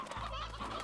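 A short burst of rooster clucking from Slime Rancher, a single close, clear cluck-like call under a second long with no talk.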